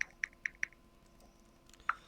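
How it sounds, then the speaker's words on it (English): Four quick evenly spaced key clicks on a computer keyboard, then a pause and one final sharper click, close and clear over a faint background hiss. "Is somebody typing or sending Morse code?"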